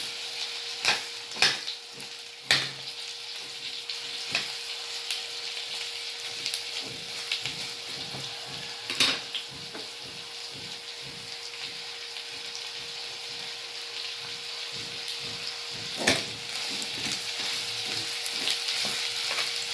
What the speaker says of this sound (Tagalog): Sibuyas na pula. Ayan, halo-haloin muna natin siya